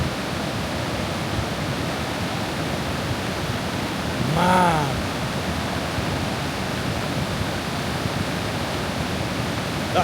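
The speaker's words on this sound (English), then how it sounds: "Well, that's my first flash flood." Steady, loud rushing of floodwater surging down a formerly dry creek in northern New Mexico during a flash flood, a continuous broad roar throughout, with someone briefly speaking over it midway.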